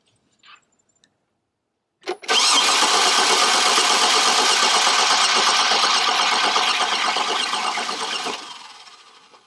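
A 2006 Chevrolet Trailblazer engine with a hard-starting problem cranks after a brief click, turning over loudly and steadily for about six seconds before cutting off, heard alone with no voices.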